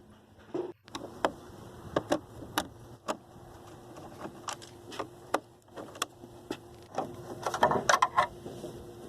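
Screws being backed out of the grille of a 1997 Ford pickup truck, heard as a series of short, close metallic clicks and ratcheting ticks at an uneven rhythm, with no talking.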